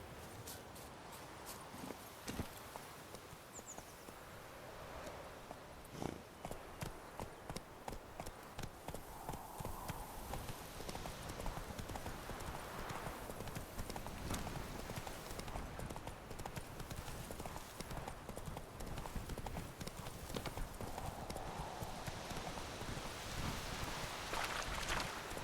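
Hooves of the horse Roach in The Witcher 3 clip-clop at a steady walking rhythm over a soft bed of rain-like ambience, moderately close and continuing throughout.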